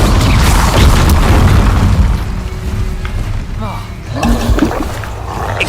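Incendio fire spell cast in Hogwarts Legacy, a loud, dense booming roar of flame that stays heavy for a couple of seconds then thins, with a voice speaking faintly beneath the rumble.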